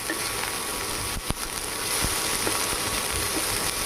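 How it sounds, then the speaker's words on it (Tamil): Coriander leaves frying slowly in a pan for a karpuravalli (Indian borage) chutney, giving a steady, soft sizzle throughout with a few faint stirring clicks and no talk. "கொத்தமல்லியும் நல்லா ஃப்ரை பண்ணணும்"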